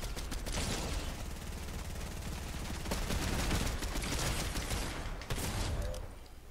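Gunfire in the video game Fortnite, a dense, continuous burst of shots and mechanical clatter running loud throughout with no talk over it.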